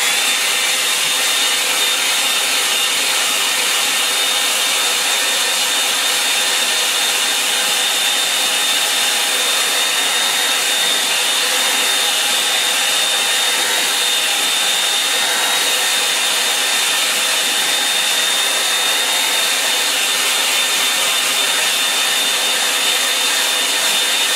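A hair dryer blows steadily and loudly over a landscape painting, a constant even whoosh with a faint high whine and no break.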